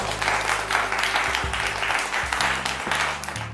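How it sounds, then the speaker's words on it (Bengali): A family game show audience claps steadily and fairly loudly with a low hum running underneath and short tonal swells partway through. "মানে হাততালি হয়ে যাক ওনাদের জন্য।"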